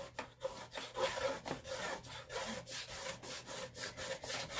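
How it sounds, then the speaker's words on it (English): A small board scraper drags wet paste off a board in a quick series of rhythmic rasping strokes, close up and fairly quiet, with no talking. "So I have wet it, and I'm just gonna take my little board scraper and scrape the paste off."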